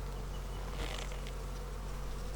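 Honeybees humming steadily in an opened beehive on an overcast day, a dense continuous buzz close by with no talking.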